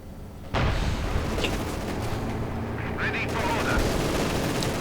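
Gunfire rattles through a video game battle as a Panzer IV charges shock troopers, with a sharp onset into dense, continuous shots and booms, heard under a commentator's talk.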